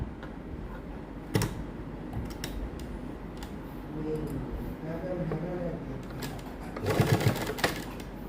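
A sewing machine runs in short bursts while stitching lace strips onto a V-neckline, with quiet background noise and a louder clattering burst near the end.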